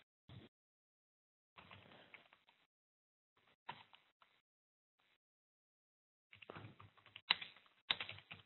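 Code is typed on a computer keyboard in short, quiet bursts of rapid clicking separated by pauses, with a denser run of keystrokes near the end and no speech.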